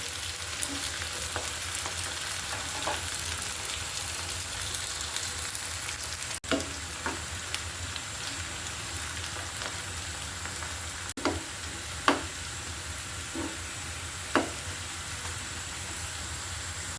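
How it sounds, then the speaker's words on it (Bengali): Garlic for tomato chutney fries in a pan with a steady, even sizzle, while occasional sharp taps and scrapes of a spoon stand out against the hiss. "আমি রসুন দিয়ে দিচ্ছি। দুটোই কিন্তু আমি ব্রাউন কালার করে ভেজে নিব।"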